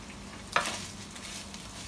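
Onions hit hot olive oil in a pan with a sudden sharp sizzle that settles into a quiet, steady frying crackle.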